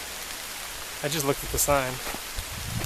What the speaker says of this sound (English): The rain has been on for a while